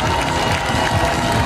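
Spectators clap and cheer at the finish line of the Amersfoort City Run, a steady, dense wash of applause from a crowd throughout.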